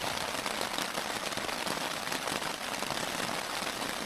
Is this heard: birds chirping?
no